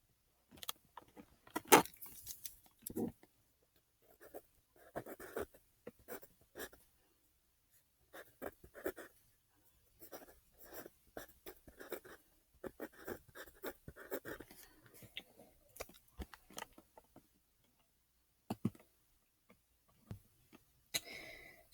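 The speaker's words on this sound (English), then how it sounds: "So I was writing for you when I was talking about that." Pen or pencil writing on paper in scratchy, irregular strokes with short pauses, close and fairly quiet, with a few louder taps and knocks, during a math lesson on decimals.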